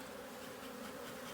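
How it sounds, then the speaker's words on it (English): Dense, steady buzzing of many honey bees up close at an open hive frame of brood and nurse bees in October, a continuous droning hum with no pauses. "There's some good brood and some good nurse bees in here."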